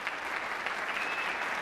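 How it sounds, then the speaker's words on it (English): Applause from a concert audience at a school honor band performance, steady and dense throughout the short stretch, filling the hall evenly without any talk over it. "Let's give him a round of applause."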